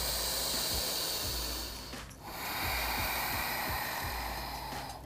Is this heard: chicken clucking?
no